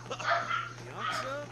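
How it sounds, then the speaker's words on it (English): A pet dog barks and yips a few times in a room, muffled and mid-distance, mixed in with talk and the steady hum of a gaming setup. "I didn't realize this picked up my dog's friggin' barks."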